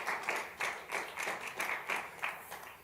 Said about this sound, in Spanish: Cristo Jesús, le da ese aplauso